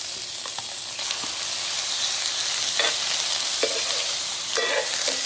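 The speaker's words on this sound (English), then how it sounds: "I'm just gonna cook up my onions and garlic a little bit, and immediately I'm gonna add my shrimp to the mix" Shrimp frying with onions and garlic in a hot pan, a steady bright sizzle with occasional stirring scrapes and pops, close and continuous with no talking.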